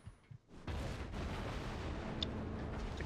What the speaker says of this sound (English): The cruiser at B is firing at us.